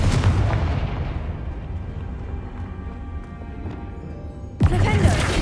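Confringo fire-spell explosion in Hogwarts Legacy: a loud, rumbling broadband blast that fades gradually, then a second sharp, booming burst hits near the end.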